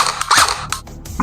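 A Double Bell KAC 808 PDW toy blaster fires a single shot, a sharp close pop followed by a short mechanical clatter.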